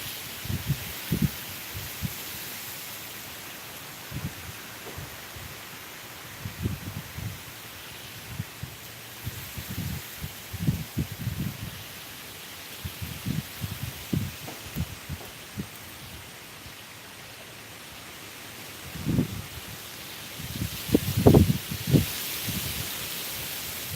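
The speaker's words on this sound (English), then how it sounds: "Here comes the wind burst." Strong wind gusts in a garden, giving a constant rushing noise broken by bursts of buffeting rumble, with a heavier flurry of gusts near the end.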